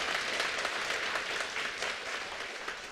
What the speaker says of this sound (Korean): 하나님께 영광의 박수 한번 더 올려드리겠습니다.